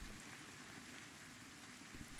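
Soft, steady rain patters continuously in Project Zomboid, a faint even hiss with no voices, broken by one sharp click right at the end.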